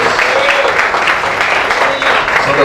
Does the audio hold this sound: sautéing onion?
no